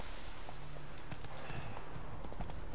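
Hooves of Roach, Geralt's horse in The Witcher 3 video game, clopping in a soft, uneven walking rhythm, faint and somewhat distant under a steady bed of ambient noise.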